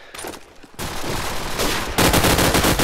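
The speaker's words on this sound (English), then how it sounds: "Dins firing up his SMG shots, will finally land onto Destin" SMG gunfire during a competitive LAN shooter match: dense, loud bursts of rapid automatic shots that grow heavier and more continuous toward the end, with no voices.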